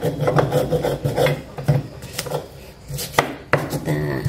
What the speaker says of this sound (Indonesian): selanjutnya yang saya akan haluskan untuk mericanya terlebih dahulu